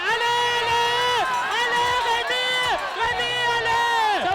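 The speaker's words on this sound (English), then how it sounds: "Let's cheer on the runners, it's super crazy!" Spectators at the Zegama mountain trail race cheer and shout for passing runners, a dense, sustained crowd din with overlapping excited voices throughout.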